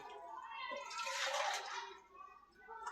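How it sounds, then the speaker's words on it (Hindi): Water poured into a pot while cooking a breakfast chickpea curry (chole), a steady broadband splashing rush that swells in the middle and tapers off, close and fairly faint. "अब इसमें पानी शामिल करने लगे हैं"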